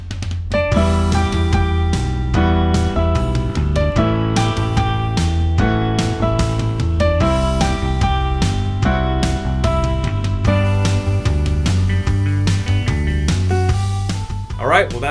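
Intermediate piano arrangement, the intro played with steady bass notes and upbeat chords and melody, continuous and lively with no talking.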